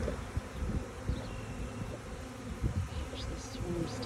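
Honeybees fanning at a hive during a spring inspection, a steady dense buzz of many insects close by, with faint higher wing whines drifting over a low rumbling hum throughout.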